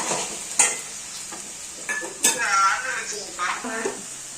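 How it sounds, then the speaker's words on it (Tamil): Potatoes sautéed in a pan with turmeric and chili powder. A light sizzle runs under repeated scraping stirs and clinks of a spoon against the pan, close and fairly loud. "இப்போ இதில் மஞ்சத்தூள், மிளகாத்தூள் போட்டு நல்லா சுருள வதக்க வேண்டியதான்"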